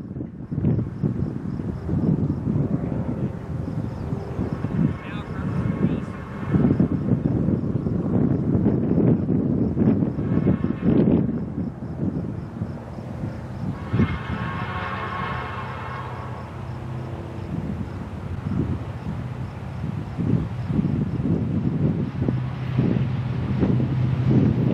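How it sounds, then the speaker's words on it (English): A Montana Rail Link train passes at Big Timber beneath an old Northern Pacific signal cantilever, a steady rumbling roar with wind buffeting the microphone, swelling with a harsher metallic passage midway and continuing loud throughout. "At Big Timber, we view the train heading under the Northern Pacific cantilever"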